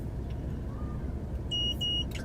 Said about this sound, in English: Sorry about the beeping noise.